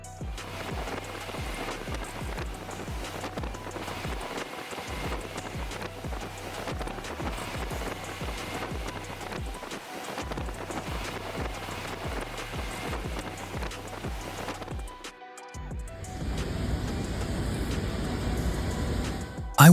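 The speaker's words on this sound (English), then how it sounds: "a violent storm tore through the streets, turning the entire roadway into a battleground of wind and rain" A violent storm sweeps through Iowa streets, with dense, loud rain and wind roaring steadily and thick rumbling underneath, and a shift to a harsher, gustier wash near the end.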